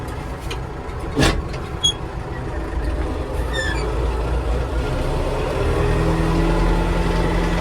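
A Scout TE-504C tractor engine runs while mowing, a steady low rumble that grows louder and heavier toward the end, with a few sharp knocks and clicks early on.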